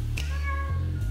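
A cat meows once in the video game Lone Survivor, a single clear drawn-out meow over a low humming game background.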